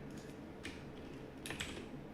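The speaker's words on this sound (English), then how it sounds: "If I can type B, there we go." A computer keyboard is tapped a few times while labeling a crypto price chart, producing faint, sparse clicks in two small clusters against a quiet background.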